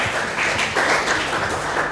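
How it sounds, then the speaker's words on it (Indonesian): A church congregation in Kupang claps together in praise during a sermon, a short, full burst of applause that swells slightly midway before evening out. "Kasih tepuk tangan untuk Tuhan."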